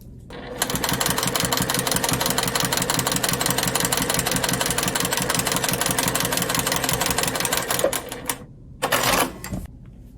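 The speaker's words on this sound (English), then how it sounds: "we're going to sew a 1/4 inch from this strip edge" A sewing machine stitches a fabric strip a quarter inch from its edge, running steadily and close for about eight seconds in a rapid even rhythm, then stopping, followed by a brief burst of handling noise.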